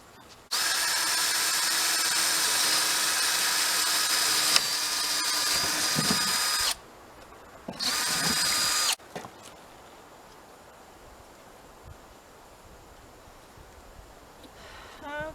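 A cordless power drill whirs loudly and steadily for several seconds drilling a hole, stops, runs again in a short burst, then fades to quiet room noise.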